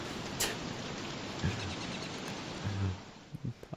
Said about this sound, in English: This is like a gigantic torrential downpour.